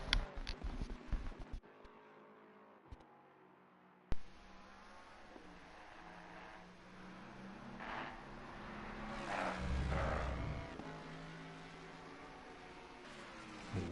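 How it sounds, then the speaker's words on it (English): A powerful race car engine in a PS4 racing game at Monza roars and revs through gear changes, loud and continuous, with a brief drop to near silence early on. "Wicked sounding car."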